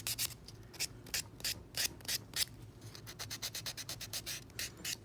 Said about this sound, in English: So we're just buffing this up.